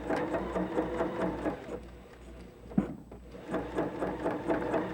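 A domestic sewing machine stitches a seam in a quick, even mechanical patter, with a brief pause and clunk midway before the rapid stitching resumes, close and fairly quiet with no talking.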